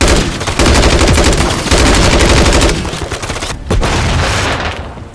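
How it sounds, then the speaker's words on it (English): Call of Duty Modern Warfare 3 cutscene gunfire: dense, loud automatic fire from several weapons overlaps in sustained bursts, punctuated by heavier booms, with brief lulls between volleys. "Light up everything that moves, but we take Nolan alive"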